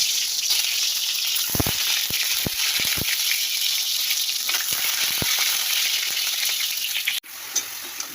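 Fish frying in hot oil in a home kitchen: a loud, dense, steady sizzle with a few sharp pops and crackles, close by, continuing throughout with a brief dip near the end.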